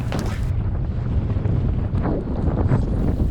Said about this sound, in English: There is a strong gusting wind.